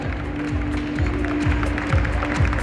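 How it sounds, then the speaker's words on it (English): Audience at a scholarship gala and fashion show applauds for the event DJ, steady clapping from a crowd layered over thumping music with a recurring low bass beat. "Give the music man, our music DJ, a round of applause"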